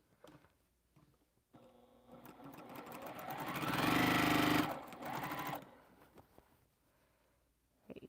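Sewing machine stitching quilt block seams, starting with short bursts, then running in a fast steady whir that peaks loudly before slowing, with a few ticks and clicks at the end.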